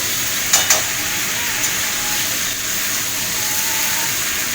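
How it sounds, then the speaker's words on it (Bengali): Vegetables for a Bengali cauliflower and potato dish sauté in oil in a pan, giving a steady, close sizzle with a few sharp clinks of a spatula stirring near the start. "তো একটু কষিয়ে নিই, তারপরে জল দেব।"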